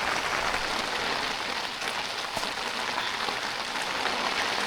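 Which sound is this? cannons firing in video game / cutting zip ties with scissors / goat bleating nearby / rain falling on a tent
rain falling on a tent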